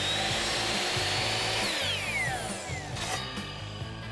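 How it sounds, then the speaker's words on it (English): Miter saw cutting a 45-degree miter across board edges for a kitchen frame, a loud steady whining motor with rattling mechanical buzz that winds down near the end. "I'm going to be mitering the edges at a 45-degree angle"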